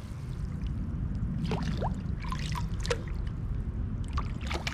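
A Maytronics Dolphin E20 robotic pool cleaner is lifted toward the surface, and water splashes and trickles over a steady low rumble of poolside noise, with scattered drips and small splashes throughout.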